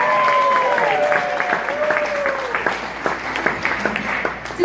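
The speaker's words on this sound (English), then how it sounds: "If you think our bride is gorgeous," Wedding guests applaud the bride during a matron of honor's toast, a steady wash of clapping filling the room with voices murmuring through it.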